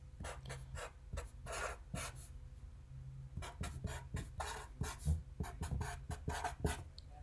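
A math expression being written by hand in a quiet classroom setting, short scratchy strokes arriving in quick bursts with brief pauses, faint and close.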